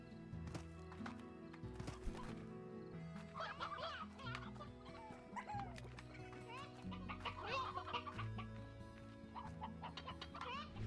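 Chickens cluck and hooves clip-clop among horse neighs on a farm in the Slime Rancher video game, a busy, continuous layer of animal calls over soft background music.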